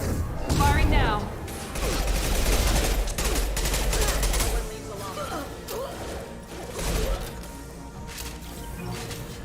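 Rapid bursts of automatic gunfire with impacts and crashes in Mass Effect 2 combat, loud and sustained, mixed with game effects and bits of voice.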